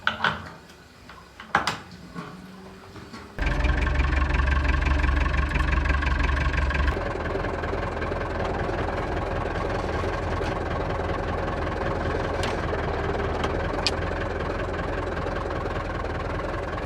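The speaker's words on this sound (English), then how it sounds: "So we've got a tractor and a trailer." A farm tractor idles with a steady, low, rumbling drone that runs on unchanged for over ten seconds. A few clunks and knocks come just before the engine settles in, and no one speaks.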